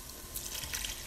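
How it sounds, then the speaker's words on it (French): Hot water poured into a cooking pot of white bean stew, a short soft splashing trickle with faint drips, close and alone. "je vais mettre de l'eau chaude."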